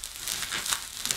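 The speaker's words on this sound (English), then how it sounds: "Might be better anyway for opening the individually wrapped parts." Individually wrapped plastic parts packaging for a Hoover Z400 vacuum cleaner being handled and opened, giving a continuous close crinkling and rustling of thin plastic with no talking.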